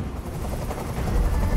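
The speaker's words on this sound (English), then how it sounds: "Tell that helicopter to get out of here." Helicopter in the video game Detroit: Become Human, a loud, dense rotor rumble and chop sustained throughout and growing slightly stronger toward the end.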